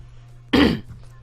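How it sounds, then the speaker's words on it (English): A single short, loud throat clear from a nearby man, a rough burst lasting about a quarter second against a quiet hum. "sorry if I'm like trying to clear my throat a lot in this"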